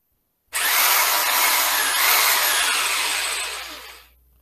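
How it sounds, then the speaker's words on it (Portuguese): An electric drill, plugged into a wall outlet, whirs loudly at high speed for about three seconds, starting abruptly and then winding down to silence. "estou aqui com a furadeira. Vou ligar aqui na primeira tomada,"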